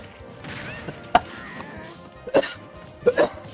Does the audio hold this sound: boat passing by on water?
no